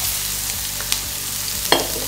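Onions and carrots fry in a pan with a loud, steady sizzle and crackle, broken by a couple of sharp stirring scrapes near the end; nobody speaks.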